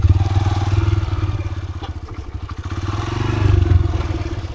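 A motorcycle rides a rough dirt trail near Antipolo, Rizal, its engine thrumming loudly and close while the bike clatters and thumps over uneven ground, the engine note rising and falling.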